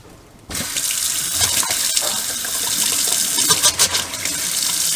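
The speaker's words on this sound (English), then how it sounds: "All right, now purge the hot water line." After a brief quiet moment, water bursts from a faucet into a sink while the hot water line of a homestead plumbing install is purged, then gushes steadily and loudly up close with small sputters.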